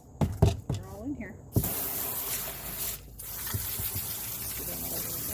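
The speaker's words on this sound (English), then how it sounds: "Give them another little rinse." Tumbled stones such as Australian lace, picture jasper and green moss agate being rinsed under water, with a steady splashing, pouring flow and a few knocks of stone at the start.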